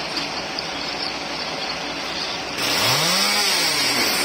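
A chainsaw roars loudly and continuously as it cuts across the stump of a felled cong tree at a market in Kien Luong, Kien Giang, its pitch dipping and rising as the blade bites.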